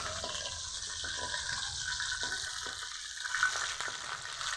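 Oil sizzles and crackles steadily around frying lotte (Bombay duck) fish pakoras, a continuous hiss with a few soft clinks and stirring sounds, no talking.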